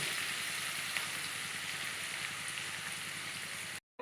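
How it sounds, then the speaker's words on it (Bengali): Sliced onions frying in hot oil for chicken biryani, a steady close hiss and sizzle that holds evenly and then cuts off abruptly at the end. "এটাকে আমি লাল লাল করে একটু ভেজে নেব।"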